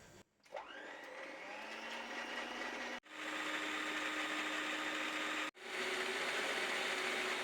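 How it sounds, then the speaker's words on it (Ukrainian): An electric hand mixer whips egg whites with a pinch of salt into stiff foam, a steady high motor whine that stops briefly twice and resumes each time, close by with no talking. "Спочатку білки збиваємо до стійкої піни з дрібкою солі."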